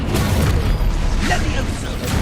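Spell blasts in the video game Hogwarts Legacy: dense, loud whooshing booms and magical bursts overlapping without pause, with a voice shouting over the continuous din.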